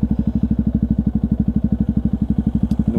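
Idling Yamaha WR125X motorcycle fitted with an aftermarket silencer puts out a rapid, even, thumping exhaust pulse, loud and close, with no voices over it.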